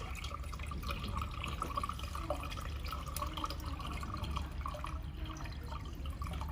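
Water filling the water tank of a handheld fiber laser welding machine, a soft continuous trickling and dripping flow, faint and close, heard alone.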